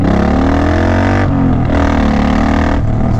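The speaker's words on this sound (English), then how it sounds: "There go a Harley." Harley-Davidson motorcycle passing by, a loud rumbling engine roar close by that swells and shifts as it goes past, heard from near a Suzuki Boulevard.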